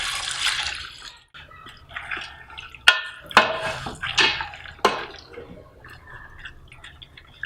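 Water is poured into a cooking pot of spiced beef for shami kabab, splashing and sloshing in uneven bursts with sharp clinks of the pot, close and fairly loud.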